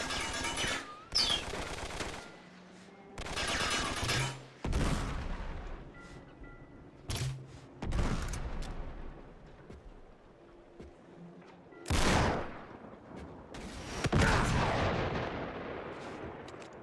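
Machine guns fire in Uncharted 3: Drake's Deception, with loud rapid bursts repeating across the scene and separated by short gaps of rumbling explosions and debris, without any talk over them.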